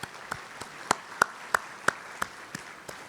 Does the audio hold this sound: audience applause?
yes